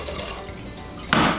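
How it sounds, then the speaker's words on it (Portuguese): Water pours into a pressure cooker over chicken breast, a soft steady trickle that swells into a louder gush near the end. "Vamos cobrir de água."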